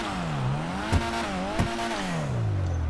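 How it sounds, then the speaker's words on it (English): Engine of a Karin Futo GTX car in GTA Online revs up and down in smooth sweeping waves, with two sharp blips between the revs, alone without talk. "Just take a listen to this engine."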